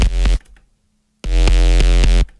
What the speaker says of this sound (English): Linfold is a really cool distortion because it's kind of like a wave shaper